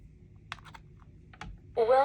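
Portable multifunctional UV sanitizer box powering up when plugged in: a few soft clicks from handling, then a loud electronic startup tone with layered harmonics that begins near the end and holds steady.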